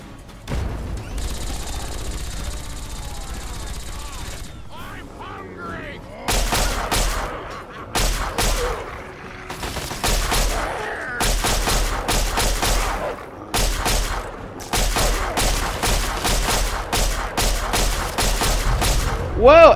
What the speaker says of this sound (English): Everything's just exploding.